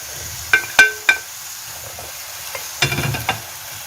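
Vegetables for pumpkin soup tipped into a pot of butter, with a few sharp clinks and clatters followed by a soft sizzling hiss as they start to fry, close and clear.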